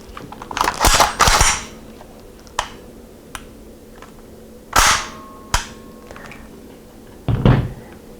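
Shots from a semi-automatic Zastava M56, a Yugoslavian submachine gun converted to semi-auto, fired at an outdoor range: several sharp, loud single cracks spaced irregularly, some in a quick pair, each followed by a short echo.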